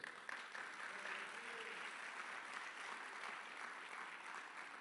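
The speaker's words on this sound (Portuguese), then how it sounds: "aplauda ao Senhor" A church congregation applauds during a Portuguese-language sermon, a steady, dense wash of clapping heard faintly and at a distance throughout, with no clear voices.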